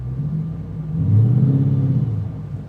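A 6-speed manual Dodge Challenger with a worn-out clutch strains to pull away, its engine holding a low rumbling idle and then swelling briefly in a labored, loaded drone, close by with no talking.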